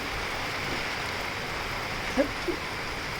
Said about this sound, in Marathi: जोरजोराने गरजणे आणि चमकण्याच्या हिशोबाने पाऊस सुरू झालेला आहे